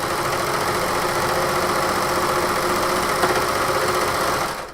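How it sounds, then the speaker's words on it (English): A serger stitches a side seam on a sewing top, running loud and close with a continuous rapid mechanical whir and chatter, steady for several seconds before stopping. "So when I serge, I start at the opposite end"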